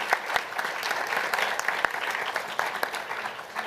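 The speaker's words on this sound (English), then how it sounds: "another huge round of applause for our moderator, Karen, and our panelists" Audience applause rises in a steady, dense wash at a breakfast event honoring a moderator and panelists, with a few sharper claps standing out close by and the noise holding throughout.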